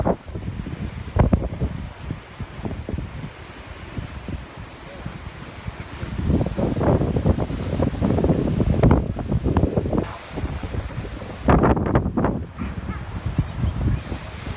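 Strong wind gusts buffet a seaside promenade during Storm Isha, roaring across the microphone in surging waves that swell louder toward the middle and end, with surf likely mixed beneath.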